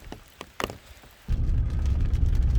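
Rain on a car windshield on a foggy day in West Virginia: a few sparse taps and knocks, then a dense, steady patter that starts abruptly and holds close and loud to the end.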